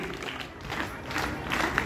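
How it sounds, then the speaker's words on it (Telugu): Students applaud at a school Republic Day celebration, a dense wash of hand clapping from a crowd in an open setting, steady and moderately loud with faint voices mixed in. "ప్రదర్శన వేసిన విద్యార్థులు మళ్ళొకసారి బాబు అక్కడ చప్పట్లతోటి 1 2 3 అంటూ కొడదాం"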